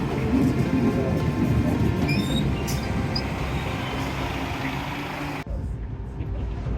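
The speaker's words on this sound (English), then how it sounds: "Taking the train into Copenhagen" Train ride into Copenhagen, with a loud, steady rumble of the carriage running on the rails and a few faint squeals, ending abruptly in quieter interior noise.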